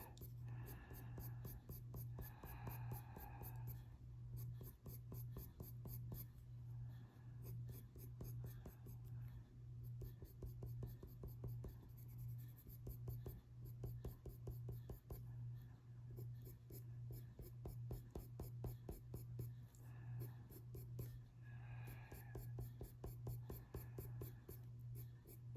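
Prismacolor colored pencils and Luminance pencils drawing on paper, with a steady, soft scratchy stroking in quick rhythmic passes, close and quiet under a constant low electrical hum, with brief murmurs of speech at times.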